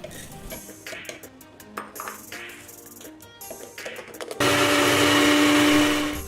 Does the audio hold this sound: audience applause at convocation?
no